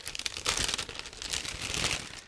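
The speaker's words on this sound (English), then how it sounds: "Next, I'm opening another plastic bag" A small plastic bag holding parts from an ICM 1/48 Gotha Go 242B-2 model kit is opened close up, giving a sustained, busy crinkling and rustling for a couple of seconds with no talking.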